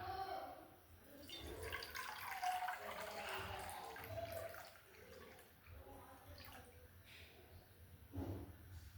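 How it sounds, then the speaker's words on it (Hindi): Water is poured into a small bowl during a basic chemistry demonstration on volume, a splashing, trickling flow that rises and falls over several seconds beneath a faint voice. "ये जितना पानी था उतना पानी हमने इसमें डाल दिया"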